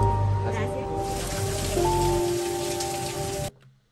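Steady rain falls on a hard surface, a dense hiss heard close, with sustained musical tones running underneath, before cutting off abruptly near the end.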